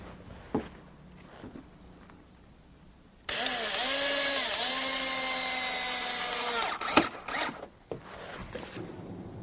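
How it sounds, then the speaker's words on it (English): A power drill drives screws into a wooden deck post in one close, whining burst of about three seconds, its pitch dipping as it bites, then a few sharp clicks and knocks follow in otherwise quiet surroundings. "I fasten them to the post at the top with a couple of screws."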